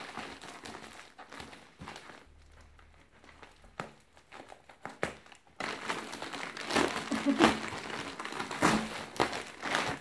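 Crinkly plastic crumpling of a Punk Rave branded bubble mailer being opened, soft rustles and handling, then denser, louder crackling and tearing in the second half, with no talk.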